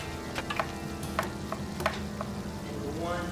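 Four garlic cloves and a small diced red onion fry in oil in a pan, a steady soft sizzle with a few sharp utensil clicks, under background music.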